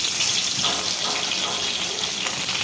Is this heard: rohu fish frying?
yes